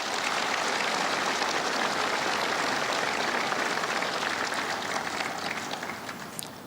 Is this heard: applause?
yes